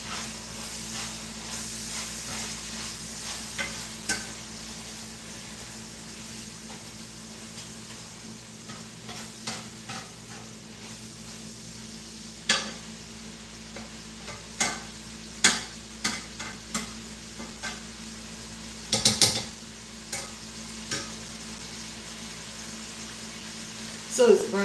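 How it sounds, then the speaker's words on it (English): Food browns in a pan on a home stove with water boiling nearby, a steady low sizzle and hiss running throughout, broken by scattered clinks and stirring knocks; no one speaks. "So it's browning up a little bit. The water is boiling."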